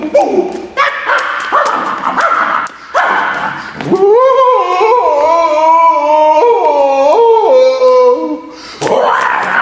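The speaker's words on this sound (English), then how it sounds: "some other dogs started barking at us" Several dogs bark and yip at close range outdoors during a walk, with a whining, howl-like dog voice rising in the middle stretch; a person's voice mixes in briefly.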